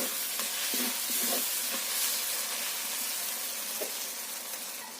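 Spices frying in oil with ginger for a mutton curry, a steady loud sizzle with intermittent scraping and stirring strokes, close up and without talk.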